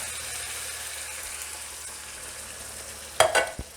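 Beef broth poured into a hot pan for beef stroganoff, a soft steady hiss that swells into a sudden short splashing sizzle near the end, close and faint overall.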